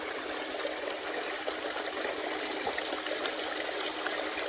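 Steady rush of water as a piece of equipment washes itself down, a continuous close hiss of running flow with no break and no voices.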